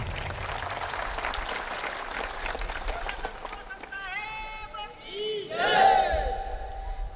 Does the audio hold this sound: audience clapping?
yes